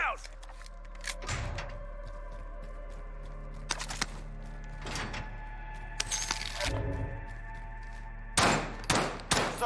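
Bursts of gunfire ring out in a first-person shooter mission, several loud volleys scattered across the stretch with a heavier cluster near the end, while game voice callouts sound between shots.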